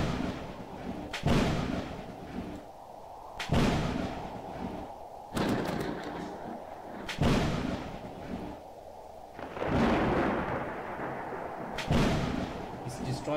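Tanks are destroyed in a Roblox natural disaster survival game, with heavy artillery-like booms repeating every two seconds or so, each a sharp thump followed by a rumbling decay, under a steady background.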